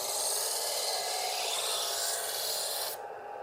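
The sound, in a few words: Smith's Diamond Edge electric knife sharpener grinding a blade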